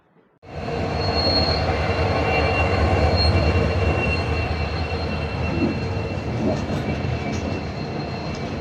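Ahmedabad–Howrah Superfast Express train rumbling steadily into Udhna station, heard from on board with loud continuous wheel and carriage noise, faint squeal and a steady mechanical hum throughout.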